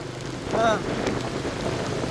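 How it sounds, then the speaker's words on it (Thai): Rain pours steadily during a storm, a constant close wash of noise with a brief tonal whine rising over it near the start. "พายุเข้าอีกรอบ3เลยจ้า"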